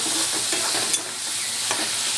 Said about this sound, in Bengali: এবার ভালো করে এটাকে কষবো।